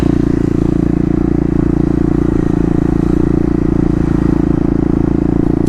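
A Kawasaki KLX250 dual sport motorcycle being ridden, its engine a steady, loud, close droning hum with a constant even pitch and no voices.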